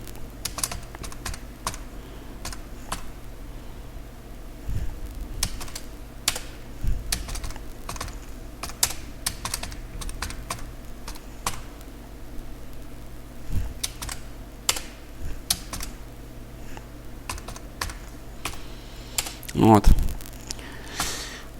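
Fingers type on a computer keyboard at close range, with irregular clusters of key clicks and short pauses throughout, ending in a louder burst.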